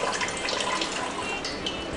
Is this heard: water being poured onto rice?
yes